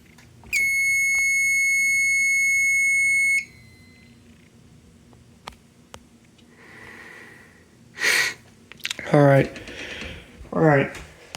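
Mini horns on a fire alarm system sound during a test, one loud steady tone lasting about three seconds before cutting off. Scattered clicks follow, then brief voices.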